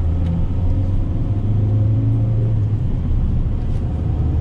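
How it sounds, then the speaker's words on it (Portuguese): Fiat Uno Sporting 1.4 engine running on ethanol, a steady low rumble with constant hum heard from close by, with no talking. "Então sente aí um pouquinho o barulho do motor"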